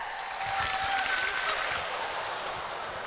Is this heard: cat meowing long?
no